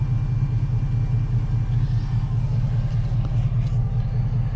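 A truck engine idles with a steady, loud low rumble that holds evenly throughout, close by and without pauses.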